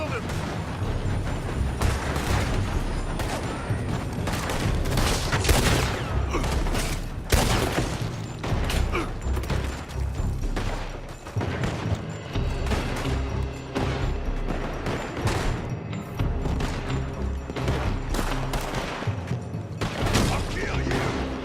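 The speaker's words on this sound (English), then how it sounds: "They're shooting from that building!" A shootout in the video game Red Dead Redemption 2, with rapid volleys of close gunshots cracking in dense, irregular bursts throughout and crashes mixed in. Voices shout in the game over the firing.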